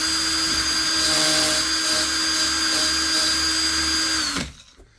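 A steady whirring motor of a power case trimmer spins while trimming fired 6.5 Creedmoor rifle brass, a constant high-pitched hum with faint cutting variations, before abruptly winding down and stopping.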